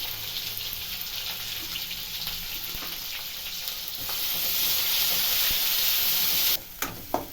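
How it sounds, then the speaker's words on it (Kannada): Sliced onion and green chilli fry in hot oil in a pan for a village-style tamarind gojju, a loud continuous sizzle that swells midway, then cuts off with a few sharp clatters near the end. "ಇವಾಗ ಈರುಳ್ಳಿ ಹಾಕೊಂತ ಇದ್ದೀನಿ ಈರುಳ್ಳಿ ಮೆಣಸಿನ್ಕಾಯಿ"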